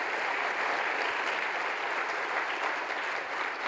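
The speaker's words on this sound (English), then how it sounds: "Let's give a big round of applause to our panelists." Dense, sustained applause from a conference audience honoring panelists after an on-stage session, a continuous wash of many hands clapping, loud and even throughout, with no speech over it.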